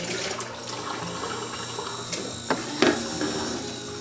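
A Keurig coffee maker brewing a cup gives a steady, close hiss of water pouring, with a couple of brief clicks or gurgles toward the end.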